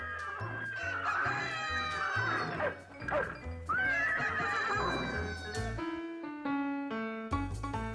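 Cartoon animal calls from a donkey, dog, cat and rooster crying out together, with braying, whinny-like cries and rooster crowing layered over a bouncy musical score, moderately loud.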